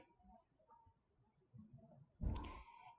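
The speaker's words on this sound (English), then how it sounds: "So here I will click to insert" A single computer mouse click in Cubit cost-estimating software lands sharp and close near the end, after faint quiet rustling, with no voices.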